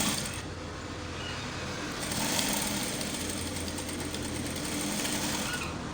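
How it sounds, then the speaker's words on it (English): A sewing machine runs steadily, pad stitching along the edges of a suit chest canvas, a continuous close mechanical whir with a slight rise in speed midway and no talking. "We do pad stitching by machine."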